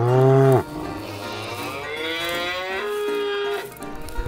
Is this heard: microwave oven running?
no